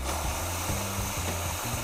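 VBM Lollo Minimax one-group espresso machine pump refilling its boiler with water, a steady close vibrating drone with a low hum and rushing hiss, unbroken for the whole moment.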